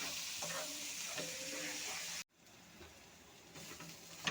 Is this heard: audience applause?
no